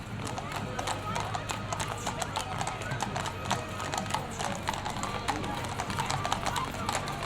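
Steady clip-clop of many horse hooves on hard ground, continuous and fairly close, from dancing horses in a Santa parade, with a busy crowd murmuring in the background.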